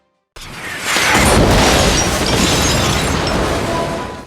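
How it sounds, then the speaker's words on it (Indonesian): A loud, sustained explosive roar of a missile strike in a film bursts in after a brief silence, holding heavy rumbling energy for several seconds before fading slightly. "pasukan tersebut terlihat menembakkan misil ke arah mereka"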